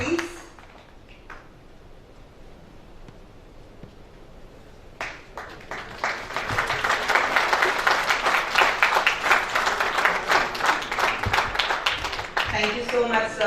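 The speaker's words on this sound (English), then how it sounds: "I think they deserve a huge round of applause" An audience at a wildlife photography book launch breaks into loud, sustained applause with dense clapping, preceded by a few seconds of quieter room sound and a voice.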